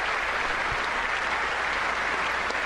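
Lawmakers in the chamber at the 2019 State of the Union address applaud in a continuous, dense roar of clapping that holds steady and fairly loud throughout, with no voices standing out.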